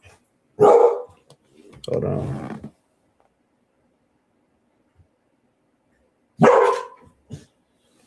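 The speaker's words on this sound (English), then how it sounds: "I guess there's another dog at the window." A dog barks indoors at another dog outside the window, loud bursts near the start and again around six seconds, with someone speaking briefly between them.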